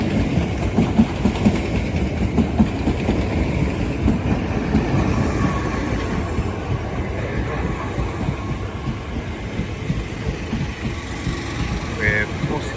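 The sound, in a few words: Southeastern Class 465 train arriving at Orpington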